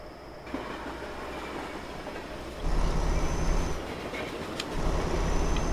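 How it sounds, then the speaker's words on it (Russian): A train in the game Euro Truck Simulator 2 rumbles past steadily with a low, continuous roar and faint rhythmic clatter, growing louder partway through, with no voices. "О, поезд поехал."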